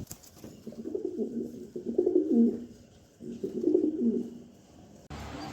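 Pigeons coo in two soft, rolling low phrases a second or so apart, close by and fairly clear, followed by a brief burst of hiss at the very end.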